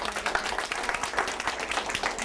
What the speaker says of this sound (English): can everyone just give a round of applause for Jamie?